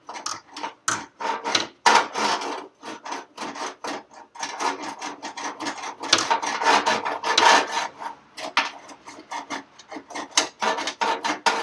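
A knife blade scrapes along a car sill, fast repeated rasping strokes, loud and close, with no talking.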